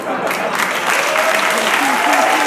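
A large audience applauds steadily and loudly throughout, a dense continuous wash of clapping with faint voices mixed in.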